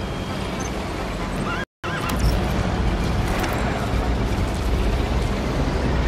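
A horse whinnies with clopping hooves in Metal Gear Solid V: The Phantom Pain, game audio loud and continuous over steady background noise, with a brief dropout near the start.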